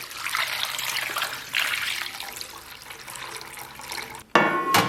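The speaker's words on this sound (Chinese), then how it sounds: "然后咱们给锅里边稍微来点水" Water pours into a pot already holding ginger, soybean oil and dried chilies for Chongqing spicy hot pot, a steady close trickle and splash that ends with a sudden louder clatter.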